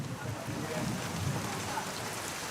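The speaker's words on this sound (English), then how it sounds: "The torrential rain pounds down on the camp" Heavy torrential rain pounds steadily down on a jungle camp in Borneo, a dense, continuous hiss and patter close by with a low rumble underneath and no break throughout.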